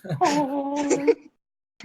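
A human voice imitates a quiet honk, giving one short nasal, tonal note held for about a second, close to the listener and alone.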